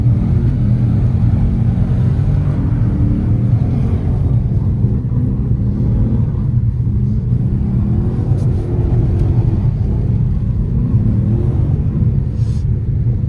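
Studded-tire Nissan Z driving in first gear across a frozen lake, a loud, constant low engine and road rumble, steady and close, with no clear revving.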